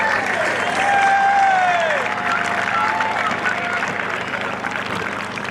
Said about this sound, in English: Please give our clubs and banner carriers a round of applause